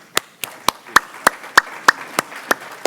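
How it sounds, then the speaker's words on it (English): Sparse audience applause, a steady run of about ten separate, evenly spaced sharp claps rather than a full ovation, fairly close and with no voices over it. "Round of applause"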